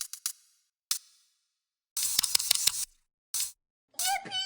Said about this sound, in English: Then I made some more percussion that kind of sounded like open hats.